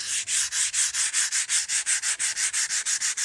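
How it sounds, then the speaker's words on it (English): Rapid rhythmic back-and-forth sanding on a guitar body, smoothing filler with sandpaper in steady even strokes about six per second, close and bright with no voices. "Currently sanding back"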